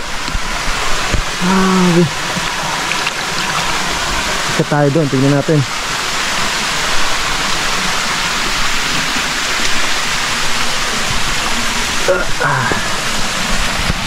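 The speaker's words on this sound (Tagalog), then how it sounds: "So papunta yung daloy ng tubig doon." Cold, clear spring water flows in a shallow stream in San Fernando, Camarines Sur, a steady broadband rush throughout, with people talking briefly over it.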